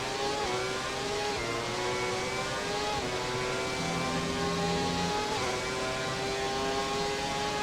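Formula 1 car engine in the F1 2017 racing game, a loud continuous high-pitched whine with rising and falling revs through gear shifts, steady throughout with no talk.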